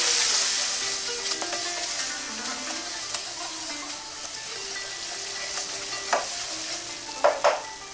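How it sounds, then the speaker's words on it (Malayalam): Arabian masala powder with pepper powder and a teaspoon of oil sautéing in a pan for chicken maklouba, giving a steady close broadband sizzle with scraping stir strokes and a few louder clinks near the end. "1 ടീസ്പൂൺ ഓയിൽ ഇവയെല്ലാം ചേർത്ത് ജസ്റ്റ് ഒന്ന് വഴറ്റിയെടുക്കാം"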